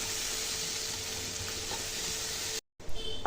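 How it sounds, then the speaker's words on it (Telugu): Tomatoes and tamarind sizzle steadily in a pan as they are stirred for a radish chutney, a continuous close frying hiss that cuts out briefly near the end before resuming. "చింతపండుని కూడా కలుపుకొని కుక్ చేసుకోవాలి."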